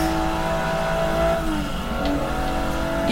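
A Noble sports car, stock and said to reach 225 mph, roars at high speed with a steady, loud engine drone and shifting pitch, close and continuous throughout.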